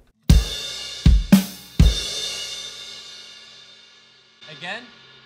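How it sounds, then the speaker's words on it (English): A drum kit plays part of a beat, with loud crash cymbal hits accenting the pattern and washing out into a long decay, then a short quieter phrase near the end. "he's playing on the crash on 1 and end of 2. And it sounds like this."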